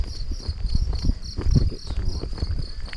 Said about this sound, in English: Just listen to those grasshoppers.